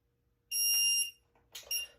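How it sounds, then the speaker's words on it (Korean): A workout interval timer set before a home morning exercise routine gives a loud electronic beep that holds for about half a second, then two shorter beeps follow closely, all alone in a quiet room. "자, 타이머 먼저 세팅하도록 할게요."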